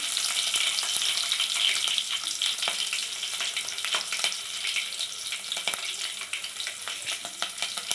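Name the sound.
frying mustard seeds, cumin and green chillies in oil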